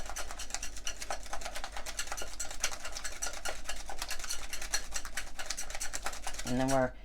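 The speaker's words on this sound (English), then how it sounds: "I'm gonna beat this up with my whisk here." Rapid, steady scraping and clicking of a hand whisk beating coffee cake batter in a bowl, continuous and close, ending with a brief voice.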